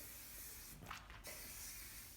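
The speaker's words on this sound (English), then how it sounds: "And then I take my hairspray and I start spraying" Hairspray hisses from an aerosol can onto hair in one short, soft spray burst amid a quiet background hiss.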